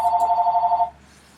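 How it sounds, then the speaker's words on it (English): A telephone bell rings in one rapid, trilling burst that lasts under a second, then cuts off into near silence. "Why, I believe that's Miss Amanda Gary on the phone"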